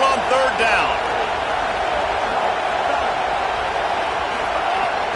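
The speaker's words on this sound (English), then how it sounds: "Here comes this home crowd as the defense tries to get off the field on third down." A home crowd roars in a football stadium as the defense faces a third down in a Texas A&M versus Texas Tech game, a loud sustained wall of noise with a commentator's voice over it.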